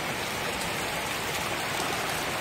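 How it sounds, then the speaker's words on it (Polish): Heavy rain falls steadily in a garden with no wind or hail, a dense, even hiss of drops striking surfaces that stays constant from start to finish. "Zobaczcie, bardzo mocno pada."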